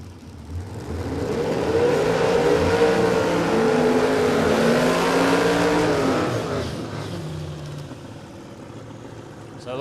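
Turbocharged Hemi drag cars, including a black ute, launching on a radial drag strip, a loud, sustained engine roar rising and falling in pitch over several seconds before fading away.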